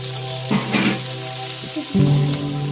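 Egg pasta with spices being stirred in a frying pan gives a steady sizzle, with scraping spatula strokes around the middle and near the end, close and continuous, with no talking.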